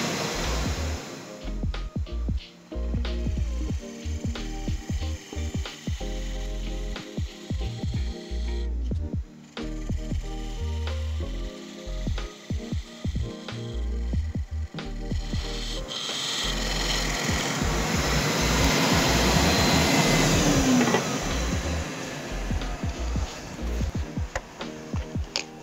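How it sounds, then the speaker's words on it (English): Parting tool cutting into a spinning wood blank on a lathe at about 1200 RPM for a salt and pepper mill, a close, steady rasping scrape with short breaks between cuts that grows louder and denser toward the end. "So, parting tool. Again, about 1200 RPM."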